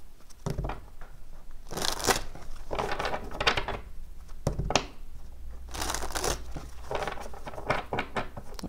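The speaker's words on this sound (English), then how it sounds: "Just want to do a really good shuffle here" Tarot card shuffling with repeated riffling bursts and soft papery slaps, fairly close, coming in several rhythmic waves with no talking.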